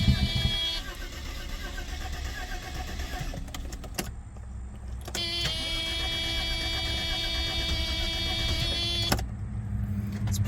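A $300 estate-auction Mercedes W124 that sat for years cranks over in two long bursts separated by a short pause, a steady whirring starter drone up close with a faint voice in the background.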